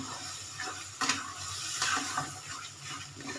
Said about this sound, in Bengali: মগজটা দিয়ে দিলাম, মগজটা দিয়ে একটু নাড়াচাড়া করব